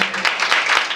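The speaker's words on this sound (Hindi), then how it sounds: "ताली हो जाए।" An audience applauding, a dense burst of many hands clapping together, loud and close, continuing steadily throughout.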